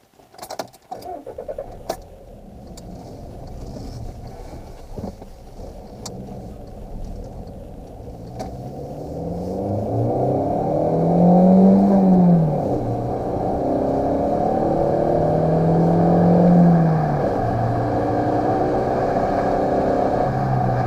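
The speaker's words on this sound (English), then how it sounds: "this is a 2013 Volkswagen Jetta. Let's go for a little drive." A 2013 Volkswagen Jetta with a 5-speed manual starting up and pulling away: a few sharp clicks at first, then a steady engine hum that rises and falls through the gears, heard from inside the car with no talking.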